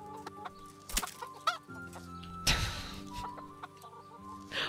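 Chickens in the medieval open-world game Kingdom Come: Deliverance cluck in short bursts over a steady game ambience, with a sharper burst of flapping or squawking midway.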